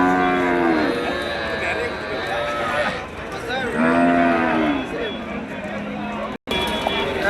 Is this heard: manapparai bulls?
yes